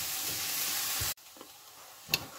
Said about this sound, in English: we're going to stir fry that. And you cook this for about 4 to 5 minutes, just so the onions translucent